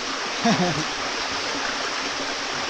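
A strong stream of flowing water rushes steadily and loudly throughout, with a brief voice heard near the start.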